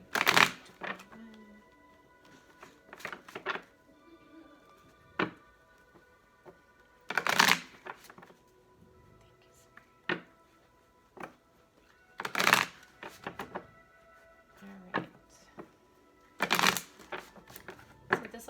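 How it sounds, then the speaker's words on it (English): Tarot cards being shuffled in quick riffling bursts, roughly every few seconds, with softer taps and handling sounds between, close and clear with no talking. "This will be our last shuffle"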